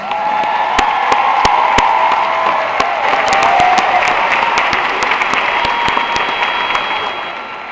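Commencement audience at a 2017 spring graduation giving a round of applause, a loud, broad roar of clapping with occasional cheers and sharp individual claps standing out, sustained before slowly tapering.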